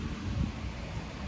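Strong wind blowing outside in the cold, a rough gusting rush with buffeting against the microphone, fairly loud and continuous throughout the short stretch with no voices.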